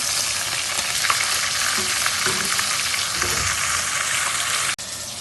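Steady, loud sizzling of chicken with tomato, garlic-ginger paste and green chili frying in a hot pan for yakhni palao, with occasional stirring scrapes and crackles throughout.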